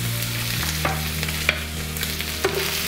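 Chopped onions and green chillies frying with bay leaves in a pan for aloo tomato curry, a constant close sizzle with a few sharp spatula clinks and stirring scrapes.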